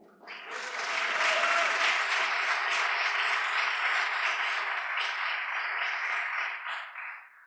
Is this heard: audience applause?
yes